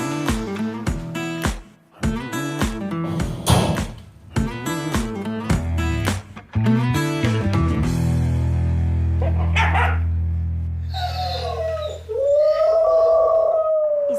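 An anxious dog left alone barks in rapid bursts, then lets out long, loud, sustained howls with rising and falling pitch, close and clear with no one talking.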